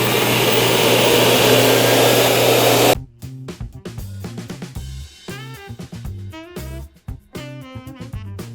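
A Ridestor W2 Edge robot vacuum cleaner starts cleaning with a loud, steady whirring roar for about three seconds, then cuts off and is followed by a series of tonal electronic beeps and prompts.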